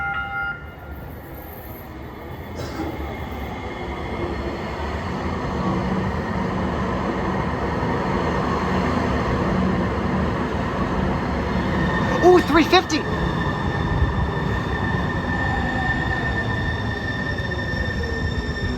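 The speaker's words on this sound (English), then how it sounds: "There's our train." A train rumbles steadily as it pulls in at a Seattle transit stop, wheels squealing briefly partway through, with a person exclaiming once over the noise.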